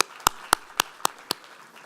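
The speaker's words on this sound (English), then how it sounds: "How about a big round of applause for all of you for taking the time to do that?" At a town hall session, six sharp, evenly spaced claps ring out about a quarter second apart, sounding like a single pair of hands rather than a full crowd, with quiet room tone between them.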